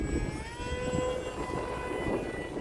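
A Hobbyzone Aeroscout S RC plane flies in strong wind, its small electric propeller whining steadily at a distance over constant rumbling wind noise, with no voices.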